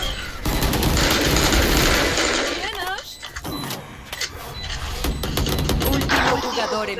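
The Bulldog rifle in Valorant fires in rapid, loud bursts, with short rattling volleys breaking off between pauses as voices talk over the shooting.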